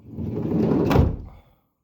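A Renault Trafic sliding door is shut and its lock clunks, giving one broad, heavy slam that rumbles, peaks near the end and then cuts to silence.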